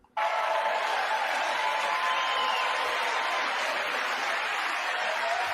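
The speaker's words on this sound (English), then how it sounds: "He's clapping." Applause at the State of the Union address: a large crowd bursts into clapping all at once, and the sound stays loud and dense throughout.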